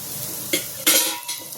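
Cooking oil poured into a hot pan for jeera rice, a few short hissing and sizzling bursts with light scraping, close and fairly quiet, no talk.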